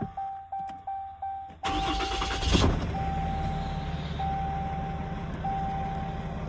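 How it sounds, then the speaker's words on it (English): A 2019 RAM truck with the 6.7 Cummins diesel cranks and fires up after a series of chimes, then settles into a loud steady idle while a single warning beep repeats at intervals. "then we will come up here, start the truck."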